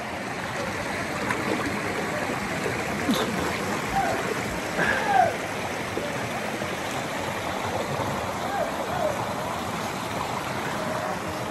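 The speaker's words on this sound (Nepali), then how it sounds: "मुख चाहिँ अलिक धुनुपर्छ खोलामा आएर है" Water rushing steadily in a river stream, with a few soft splashes from someone washing their face in it, close by and continuous.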